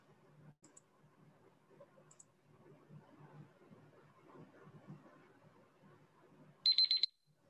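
An electronic timer alarm at a quiz competition sounds near the end as a short burst of rapid, loud beeps, after several seconds of quiet room murmur and faint clicks.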